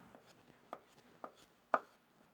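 Fresh tomato chopped on a board with a knife, four or five soft, spaced thuds growing slightly louder, near and quiet, no talk.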